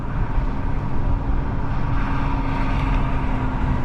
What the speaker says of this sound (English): You can hear the revs going up a little bit.